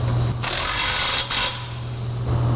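Bolts being tightened on a Winters quick change differential mount in a Corvette: a ratcheting, clicking hand-tool run with two brief pauses, fairly close, over a steady low hum.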